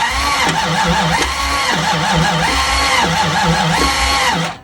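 A 1995 Dodge Ram engine cranks with a rhythmic, repeating starter whir, loud and close, continuing steadily for several seconds before cutting off abruptly.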